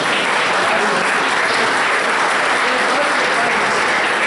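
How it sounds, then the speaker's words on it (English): Loud, sustained audience applause fills the room at a high school awards night banquet, a thick, unbroken wash of clapping from a large crowd with no distinct voices above it. "I want to give you a round of applause for coming out and supporting these young men and women."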